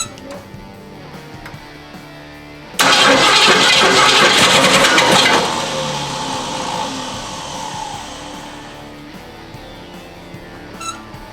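A 1970 Ford Mustang Fastback fires up for the first time with a sudden loud roar that holds for a few seconds, then drops to a steadier, quieter running rumble.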